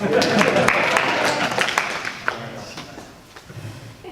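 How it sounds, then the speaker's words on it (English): At a city planning and zoning meeting, a small group gives brief, scattered applause that thins out and fades, followed by a few knocks and murmured voices. "Can I have a round of applause?"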